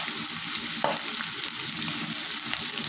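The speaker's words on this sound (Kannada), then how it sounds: "ನಾನು ಆ ಪ್ಯಾನಲ್ಲಿ ಏನು ಎಣ್ಣೆ ಇತ್ತು ಅದಕ್ಕೆ ನಾನು ಈರುಳ್ಳಿ ಮತ್ತು ಹಸಿಮೆಣಸಿನ್ಕಾಯನ್ನು ಹಾಕ್ಕೊಂಡಿದ್ದೀನಿ" Sliced onion and green chilies fry in hot oil in a pan for boiled egg bhurji, a dense continuous sizzle with faint stirring scrapes and no voices.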